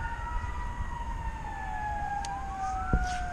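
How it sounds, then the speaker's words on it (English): A distant siren wails with rising and falling tones over steady traffic rumble at an urban pond, a sharp knock briefly cutting in near the end. "when you hear sirens and trains and got a lot of traffic going by"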